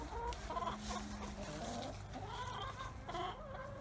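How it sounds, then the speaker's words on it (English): Chickens clucking nearby, a steady chatter of soft clucks and murmurs with occasional louder calls, no talking. "We love our chickens, and they love us too."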